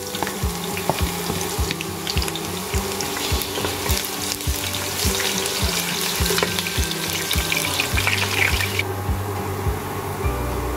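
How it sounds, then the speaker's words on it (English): Loud, steady sizzling and bubbling of chicken cooking in hot oil in a pot, continuous and close, with occasional clinks of a utensil against the pot. "We're boiling it, some oil."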